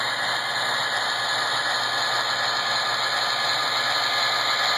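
A model train motor runs at a slow crawl under tachometer feedback, giving a steady, close, continuous whirring drone with a faint rattling texture and no pauses.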